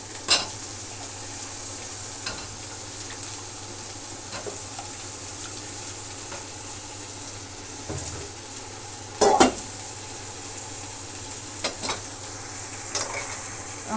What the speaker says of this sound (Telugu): ఉల్లిపాయ ఆ విధంగా మగ్గిన తర్వాత వంకాయ ముక్కలు వేసేస్తున్నాను